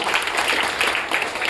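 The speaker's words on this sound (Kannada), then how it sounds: "ಹಂಗಾಗಿ ಜೋರಾದ ಚಪ್ಪಾಳೆ ಮಕ್ಕಳು ಅಭಿನಂದಿಸ್ತಾರೆ" Children at a public gathering honouring town sanitation workers in Shikaripura give sustained applause, a steady crowd of clapping hands at moderate level with slight surges, no voices standing out.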